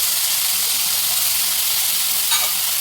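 Tomatoes, carrots and beans hiss and sizzle in a hot pan with garlic and ginger as they are added and stirred for a veg patty filling. The frying is close and loud, a continuous crackling hiss.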